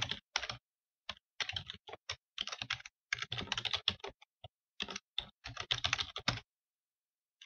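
Rapid typing on a computer keyboard in close, crisp bursts of clicks, separated by short silent pauses, with no voices.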